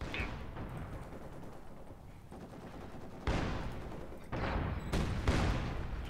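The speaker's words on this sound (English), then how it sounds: "Bastards are shooting at us." Dense gunfire in Company of Heroes 2 rattles on in a snowy battle, with machine-gun bursts and heavier blasts that swell louder toward the end.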